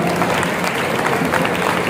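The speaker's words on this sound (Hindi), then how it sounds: "अब तक का कवि सम्मेलन आपको कैसा लगा, एक बार तालियों की गुंजायमान करके बता दीजिए।" Applause from the audience at a kavi sammelan poetry gathering during the Nauchandi fair in Meerut, a dense, steady patter of many hands clapping at once for the full two seconds, fairly loud and even.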